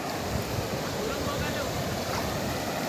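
Floodwater surging over farm fields like an overflowing weir, a dense, steady roar of rushing water with wind buffeting the microphone throughout.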